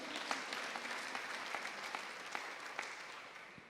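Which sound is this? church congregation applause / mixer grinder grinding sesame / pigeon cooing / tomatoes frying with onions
church congregation applause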